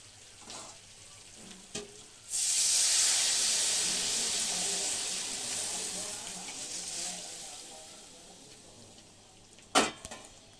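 Water poured onto meat frying in oil in a pan bursts into a loud, steaming sizzle that slowly fades, with a few clatters of utensils around it.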